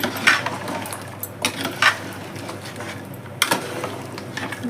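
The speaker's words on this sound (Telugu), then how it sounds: "ఒక చిన్న కప్పు కొబ్బరి అండి వేసేసుకొని మంచిగా కలిపేసుకో." A spoon stirs a small cup of dry coconut powder into a simmering goat-head curry pot. Intermittent scraping and clanks against the pot ring out over a faint sizzle, close by, with no talk.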